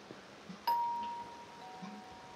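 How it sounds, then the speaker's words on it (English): A single clear electronic doorbell chime in a video game, one bright sustained tone that rings out and then shifts to a slightly lower second tone, over a low background hum. "Ding dong."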